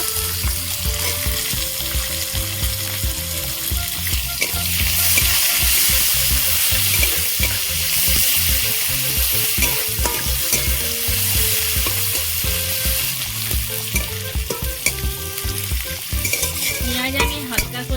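Chopped onion, green chili and garlic fry in hot oil with a continuous loud sizzle, broken by frequent rhythmic stirring scrapes and clinks of a spatula against the pan.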